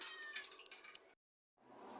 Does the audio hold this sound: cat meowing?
yes